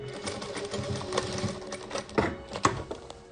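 A sewing machine runs a seam down the middle of patchwork fabric, with close, rapid mechanical stitching in short bursts and pauses.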